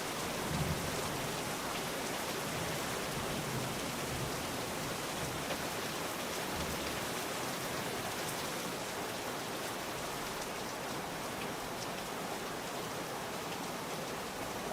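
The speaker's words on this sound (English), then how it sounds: "Oh, is the rain finally going to end?" Steady rain falls throughout a VR hunting game, a dense even hiss of drops on surfaces with no pauses and no voices.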